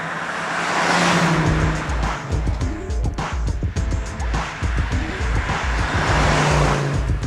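A 1988 Audi Quattro in pearlescent white drives close by, its engine loud and steady with throttle surges and some tire noise throughout, no talk.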